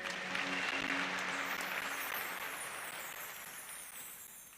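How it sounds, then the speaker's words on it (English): A church congregation claps together inside a diocese church, a full burst of applause that starts strong and slowly fades away, with a few faint voices underneath. "please give yourselves a clap again"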